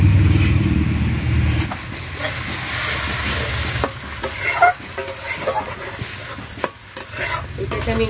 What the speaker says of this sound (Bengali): এটাকে আমি একটু ভেজে নেব